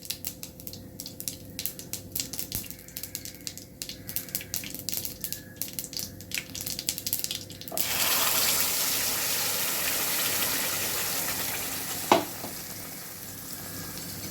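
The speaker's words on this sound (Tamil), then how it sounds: "இந்த சட்னி வந்து எண்ணெயில் இருக்கும்போது கொஞ்சம் தெறிக்கும்" Coriander seed chutney is poured into hot oil with popped mustard seeds and urad dal, then bursts into a loud, steady sizzle. Earlier there are scattered crackles and pops, and a sharp clank sounds near the end.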